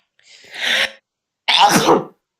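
Two short explosive bursts about a second apart, close and fairly loud, like a pair of sneezes.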